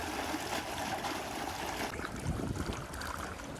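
Water trickles and gurgles from freshly dug ground at an excavation. The flow is steady and close, with a low rumble beneath it and no talk.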